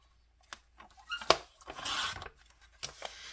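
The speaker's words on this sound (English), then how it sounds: "And then cut this off here." Scissors snip through homemade washi tape for a bullet journal, a few short crisp cuts with light rustling of paper and tape between them, close and fairly quiet.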